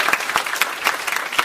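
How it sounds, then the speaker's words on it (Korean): Audience applause at a tech lecture on mobile CPUs: dense, steady clapping from many hands throughout, close and fairly loud, with no voices over it. "다시 한번 박수."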